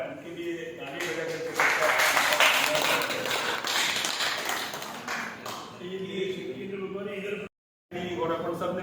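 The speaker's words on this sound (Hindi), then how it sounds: "उनके लिए ताली बजा" Audience applause at a Bharatiya Janata Party meeting, a dense wash of clapping that swells partway through, mixed with crowd voices and talk, then a brief dropout before the noise resumes.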